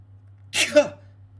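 A single close, sharp human sneeze: a quick breathy burst followed by a short voiced tail, alone against a low steady hum.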